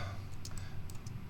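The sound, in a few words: pressing keyboard key in Illustrator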